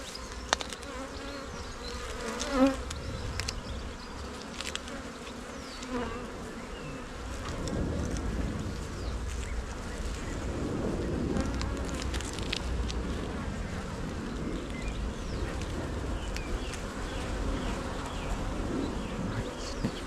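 Honeybees buzzing steadily around an open beehive during an inspection of wired frames, a dense continuous hum close by that swells in the middle and persists with no talking.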